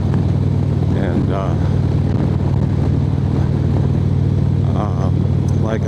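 A motorcycle cruising along open small-town roads, its steady low engine drone and wind roar running continuously while a rider talks over it.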